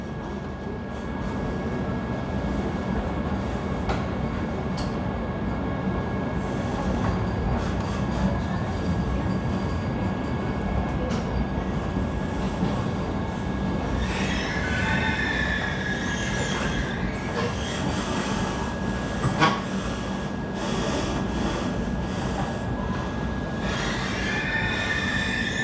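A Vande Bharat Express train between Mumbai and Goa rolls continuously along the rails with a steady rumble, a thin whine throughout, and occasional squeals and clicks of the wheels.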